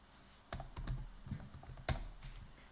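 Computer keyboard typing while entering code parameters, a quiet, close series of irregular clicky key taps with short pauses between bursts, no voices.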